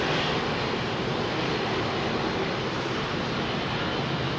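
Emirates Boeing 777 jet airside at an airport, a dense steady engine roar filling the short stretch, constant and fairly loud.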